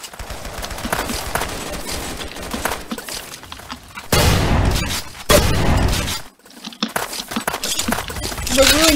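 Loud video game combat in Roblox Ace of Spadez, with dense rapid gunfire, bursts and a booming grenade explosion roughly midway, continuous and harsh with no voices over it.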